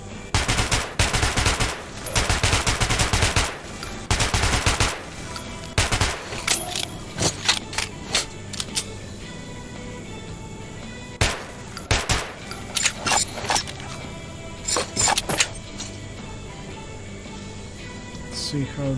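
Gunfire from a gun in the video game Metro 2033 Redux: repeated bursts of rapid shots cracking out loudly, with short pauses and a few single shots between them.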